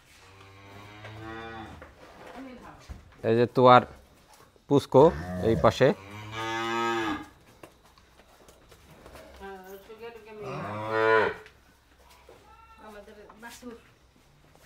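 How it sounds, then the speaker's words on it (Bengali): Cattle on a village farm in rural Bangladesh, several loud, drawn-out moos close by, mixed in with people talking. "এই যে আমার খামারের আগের গরু, চিল্লাচিল্লি শুরু করছে সবাই"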